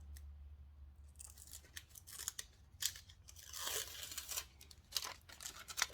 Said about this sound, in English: Once this has cooled down, you just tear the paper backing off.